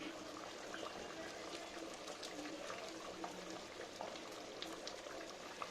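A curry with potato and ash gourd boils in a pot, giving a steady, soft bubbling and popping that holds at a low, even level throughout with no talking.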